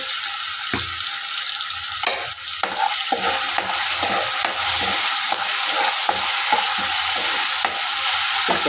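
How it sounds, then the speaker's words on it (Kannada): Vegetables roast in a hot pan with a little salt for a festival meal, giving a steady loud sizzle broken by frequent scraping stirs and a few sharp clinks, with no talking. "ಸ್ವಲ್ಪ ರೋಸ್ಟ್ ಮಾಡಿಬಿಟ್ಟು ಸ್ವಲ್ಪ ಉಪ್ಪು ಹಾಕೊಳ್ತಾ ಇದ್ದೀನಿ ಅದು ಬೇಯಲಿ"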